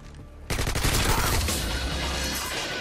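An M4 rifle in the video game Modern Warfare 2 opens up suddenly after a quiet moment, loud rapid automatic bursts close by that roll on into dense continuous gunfire.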